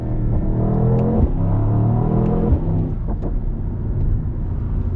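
A 2024 Mercedes-AMG GT63 two-door V8 rumbles deeply under load, with engine note shifts and blips as it downshifts, loud and close from inside the cabin.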